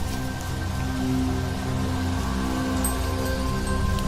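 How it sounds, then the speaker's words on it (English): Steady afternoon rain falling on a wild boar hunting trip outdoors, a continuous hiss and patter of drops on surfaces, fairly loud and even throughout with no voices. "The rain began to fall in the afternoon"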